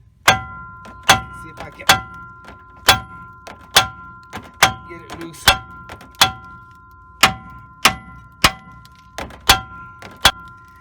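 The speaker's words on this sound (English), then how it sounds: "I'm gonna hit it a few times here on the knuckle" A heavy hammer bangs repeatedly on the steering knuckle of a 2000 Chevy Silverado 1500 during upper control arm work, about a dozen loud, sharp metallic clangs at a steady rhythm, with a brief spoken remark between strikes.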